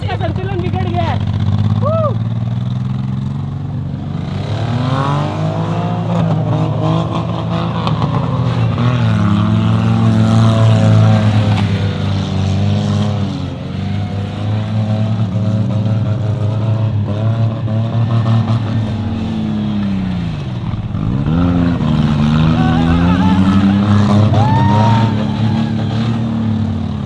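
A car whose two steering halves turn opposite ways crawls sideways, its engine humming and droning steadily with shifting pitch, while people talk throughout.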